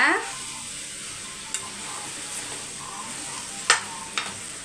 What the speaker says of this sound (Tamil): மிக்ஸ் பண்ணி நல்லா வதக்கி எடுத்துக்கோங்க.